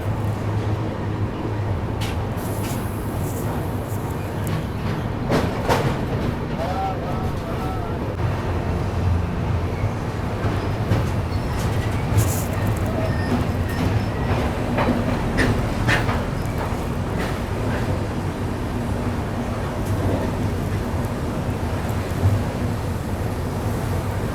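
Humsafar Express rumbles steadily across the Krishna river bridge, a continuous loud roar of wheels and carriages with faint rhythmic clatter, heard from inside the train with occasional voices in the background.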